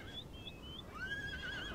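A heavy cavalry horse in the Darthmod strategy game neighs in two short whinnying calls, the second longer and more drawn out, heard faintly alone over low battle ambience.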